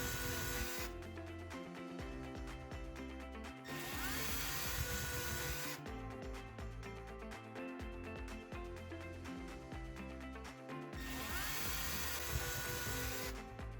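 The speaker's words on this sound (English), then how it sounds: "using a drill with a Phillips drill bit," A power drill fitted with a Phillips bit drives screws to mount a 4K Wi-Fi IP wireless camera, running in several whirring bursts separated by short pauses, fairly faint and close with no speech.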